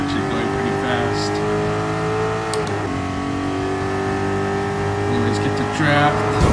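A race car engine in Gran Turismo Sport roars steadily at full throttle, a loud sustained drone with a brief gear-change dip midway and a rising surge near the end, with a voice talking over it.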